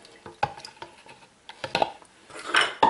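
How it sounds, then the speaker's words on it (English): Eggs and butter being mixed into paska dough in a bowl, with irregular clinks and scrapes of a utensil against the dish, bursts of mixing alone and close by. "And we're going to mix that to get it into a nice dough."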